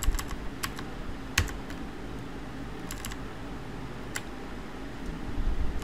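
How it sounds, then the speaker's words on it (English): A command is typed on a computer keyboard, scattered sharp key clicks in short bursts over a steady fan-like hiss, close and fairly quiet, with no speech. "I will just type it because this copy paste is not good enough"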